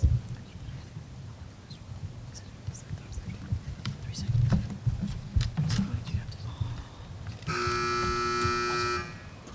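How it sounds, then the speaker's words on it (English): Quiet murmuring and shuffling at a Hi-Q quiz match, then a loud electronic quiz buzzer sounds a single sustained tone lasting about two seconds. "10 seconds before you can press the buzzer"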